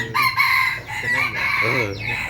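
A wild rooster crows near the listener, a short rising cock-a-doodle call with clucking, while someone talks quietly underneath.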